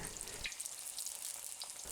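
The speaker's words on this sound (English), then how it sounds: "One thing about frying this rice paper, we have to be sure the rolls don't stick together." Continuous bubbling and crackling of rice paper summer rolls frying in hot oil in a cast iron wok, with a few brief clinks of stirring, no talking.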